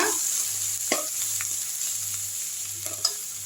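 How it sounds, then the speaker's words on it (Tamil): Curry leaves sautéing in a pan with a soft, steady sizzle, joined by a few light stirring scrapes and clinks up close. "இது கருவேப்பிலை போட்டுக்கலாம். நல்லா வதக்கி விட்டுருங்க"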